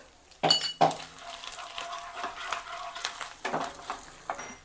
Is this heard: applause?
no